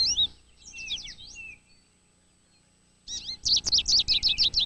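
Goldfinches in a winter backyard give bursts of high, twittering chirps, a quick run at first, then a pause, then a louder rapid series of sweet calls close by.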